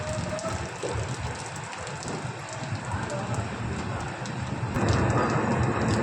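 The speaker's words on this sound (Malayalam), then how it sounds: "ചെറിയ തോതിൽ മഴ പെയ്യുന്നുണ്ട് കേട്ടോ" Light rain falls as a steady broadband hiss around a moving Kannur Jan Shatabdi Express train near Shoranur Junction, mixed with rumbling train noise. The hiss grows louder toward the end.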